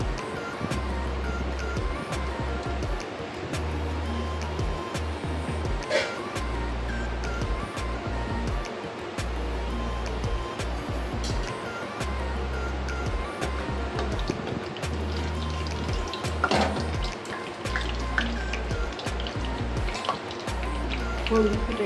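Fenugreek and cumin seeds tempering in hot oil for a mutton liver curry, giving a loud, continuous close-up sizzle and crackle with low rhythmic rumbling underneath.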